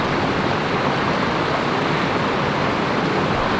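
Steady, full rushing roar of the waterfall at Sculpture Falls in Austin, heard close and continuous without pause.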